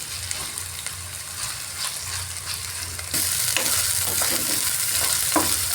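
Onions frying with ginger garlic paste, a dense continuous sizzle that grows noticeably louder partway through, with occasional stirring scrapes and no speech.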